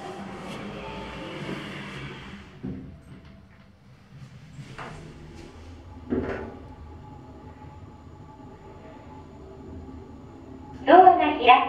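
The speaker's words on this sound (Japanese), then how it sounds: "ドアが閉まります。" Elevator doors at JR New Chitose Airport Station sliding shut with a soft rumble and a faint thud, followed by quiet cabin hum and a brief knock; a recorded announcement voice is heard.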